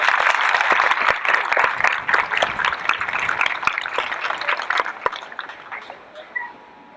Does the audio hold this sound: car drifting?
no